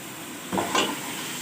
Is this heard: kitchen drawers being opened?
no